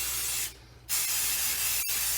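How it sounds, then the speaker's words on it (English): A light spray of mold release from a can hisses onto a rubber mask. A steady spray stops briefly, then resumes in a continuous hiss, with one small click partway through. "give it a light spray"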